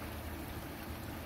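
A Gerber Allerton toilet bowl filling with water after a flush, heard as a steady rushing, gurgling flow of water that holds at a constant level throughout, close by and with no voices.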